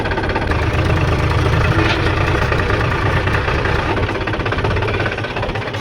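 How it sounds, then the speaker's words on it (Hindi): A tractor engine idles loudly in a farm field before ploughing, a close, steady knocking rumble that runs on without pause and with no talk. "ट्रैक्टर स्टार्ट कर लिए।"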